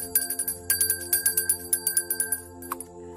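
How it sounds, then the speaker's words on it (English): A bell rings in rapid, evenly spaced strikes, each leaving a bright, lingering metallic shimmer, close and clear, with a last softer strike before the ringing fades. "We're gonna ring the bell."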